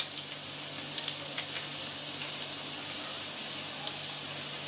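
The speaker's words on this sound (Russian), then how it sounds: "Чуть-чуть его обжарим. Добавим чеснок." Onion and garlic frying in heated oil in a pan, a dense even hiss and crackle heard close and steady, with no talking.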